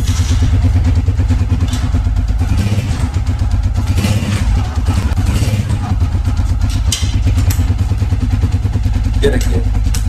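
A Honda 125 motorcycle, just fixed for a loose clutch lever, idles close by with a steady, chugging, slightly clattery engine beat, while someone talks over it.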